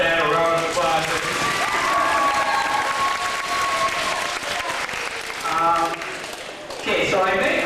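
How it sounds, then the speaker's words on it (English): A crowd applauds at a community wish event in Wetaskiwin, Alberta, with sustained clapping and some cheering, while a voice talks over parts of it. "Let's give Kristopher's dad a round of applause"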